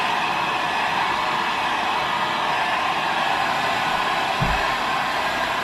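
A heat gun blows hot air over a drywall patch compound, giving a steady, close whooshing roar that holds evenly throughout with no voices.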